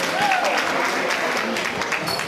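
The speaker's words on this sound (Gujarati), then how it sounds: "તો જોરદાર તાળી પ્લીઝ." An audience applauds at a community convention gathering with picnic and garba, a steady dense wash of clapping holding at constant loudness, with faint voices mixed in underneath.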